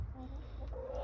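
Chickens cluck in their backyard pen, with a steady low murmur of clucking and a few louder calls near the end. No one speaks.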